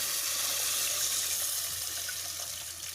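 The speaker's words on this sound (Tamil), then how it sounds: "இப்போ வந்து நம்ம கரைச்சி வடிகட்டி வச்சுக்கிற புளி தண்ணியை ஊற்றிக்கணும்" Strained tamarind water is poured into a fish curry of kodua or vela fish, a steady close liquid pour and splash heard alone without talk.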